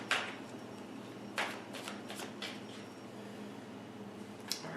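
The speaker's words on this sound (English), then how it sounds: "Couple more shuffles here" Tarot cards are shuffled by hand, close and quiet, in a few short riffling bursts separated by softer handling and gentle shifting of the deck.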